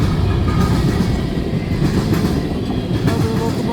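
A CN northbound manifest freight train led by locomotive 3904 rumbles past close by at Ladysmith, Wisconsin, loud and continuous, with rolling wheel noise and metallic squeals over the cars.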